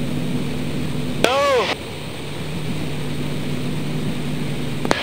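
A propeller airplane engine drones steadily through an aerobatic pull-up and roll, with a sweeping warble in the middle and a loud, constant cabin hum.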